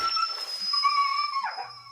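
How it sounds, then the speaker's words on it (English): High-pitched, drawn-out dog yelp from the game over screen of a FNATI fangame horror video game, a single whining cry that bends downward at the end, alone and fairly loud. "during the game over screen, it sounds like a dog is being killed."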